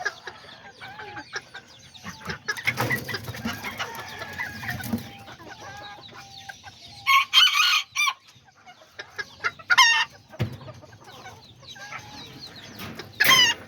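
Azteca and serama chickens cluck and crow, with several loud crowing bursts standing out over softer clucking and background farmyard noise, and no talking.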